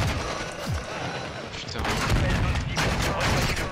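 Repeated bursts of automatic gunfire in Modern Warfare 2 combat, dense and fairly loud, growing heavier in the second half with thumping impacts mixed in.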